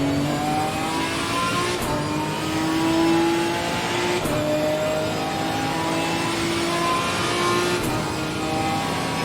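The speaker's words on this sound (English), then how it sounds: "Watch your mirrors. There's a car approaching." A race car closes in from behind during a multi-class GT race in Assetto Corsa Competizione at Silverstone, its engine a loud, continuous droning whine over steady track noise, with faint clicks every couple of seconds.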